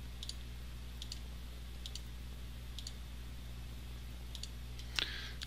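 Computer mouse clicking while working in CorelDRAW 2020, faint paired clicks repeated at an unhurried pace over a low hum, with one slightly louder click near the end.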